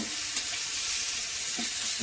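Ginger frying in hot oil crackles and sizzles in a dense, close hiss, with a couple of soft stirring scrapes and no voices.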